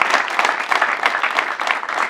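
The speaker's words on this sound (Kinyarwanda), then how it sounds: "amashyi menshi cyane" Residents at a community meeting in Kicukiro, Rwanda applaud, a loud, dense burst of close clapping that holds steady for a couple of seconds.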